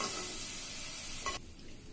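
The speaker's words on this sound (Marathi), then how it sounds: "तेल थोडं जास्त घातलेलं आहे कारण मी आता याच्यामध्ये बटाटे फ्राय करून घेणार आहे।" Baby potatoes fry in plenty of hot oil in a pot, giving a loud, dense sizzling hiss that cuts off abruptly near the end and leaves a quieter, softer crackle.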